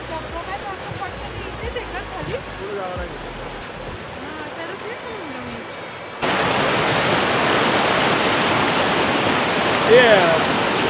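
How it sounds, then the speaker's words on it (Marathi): A monsoon waterfall on the Narmada river roars as a broad, steady rush of falling water, quieter and mixed with distant chatter at first, then suddenly fuller and louder. "तसेच येथे धबधबा धबधबासुद्धा आहे"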